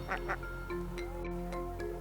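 A limping duck making a few nasal quacks, two close calls at the start and more spaced ones after, fairly near, over a steady tonal background with possible faint voices.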